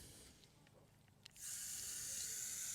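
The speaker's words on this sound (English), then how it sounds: "so this is the second rinse of this filter" Tap water starts running and rinses a K&N air filter from a 2007 Subaru WRX, a faint hiss swelling into a steady, close splashing stream after a quiet moment.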